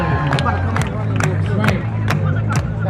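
A crowd at a New York Knicks watch party in Manhattan makes noise: steady loud babble and cheering with rhythmic clapping bursts roughly every half second, close and dense.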